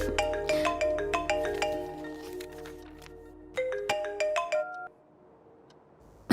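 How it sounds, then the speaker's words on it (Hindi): A melodic phone ringtone plays close by, bright repeating chime notes in a looping pattern, stopping abruptly before the end. "मैं फोन करने ही वाला था"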